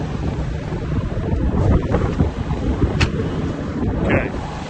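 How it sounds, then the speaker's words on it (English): Wind gusting across an open farm field, roaring and buffeting loudly against the microphone in continuous rumbling surges, with no voices. "The wind."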